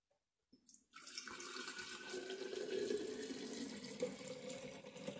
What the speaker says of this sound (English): I'm going to pour it into my cup.